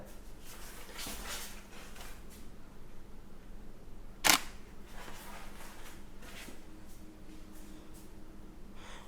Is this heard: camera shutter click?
yes